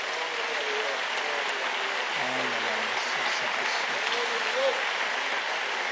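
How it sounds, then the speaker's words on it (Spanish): A church congregation at a Pentecostal convention service in Bucaramanga applauds, producing a steady wash of clapping that blends with voices and a brief low vocal murmur in the middle. "Dele un aplauso al Señor en esta noche."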